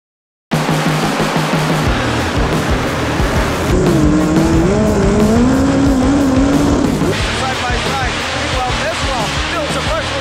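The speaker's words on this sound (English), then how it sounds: "It is time to go racing here in DuQuoin." Race cars roar around the track at DuQuoin in a loud, continuous racing din, with engines droning and rising in pitch as they pass, while an announcer talks over the action.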